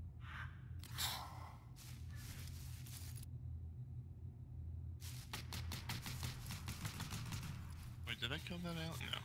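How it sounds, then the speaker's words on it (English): Rapid bursts of alien gunfire in the sci-fi video game Shattered Skies, a quick run of sharp, close shots among other game noises with a steady low hum underneath. "I'm running away from an alien and he's shooting me in the back."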